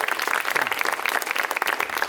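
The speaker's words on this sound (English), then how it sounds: "So everyone cheer for her making her own costume." An audience at a retro gaming convention claps and cheers steadily for a homemade costume, with dense, continuous applause throughout.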